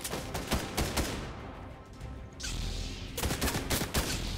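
Rapid Fortnite Zero Build Squads gunfire: loud repeated shot bursts crackling at the start, a brief lull, then another close volley of sharp reports near the end.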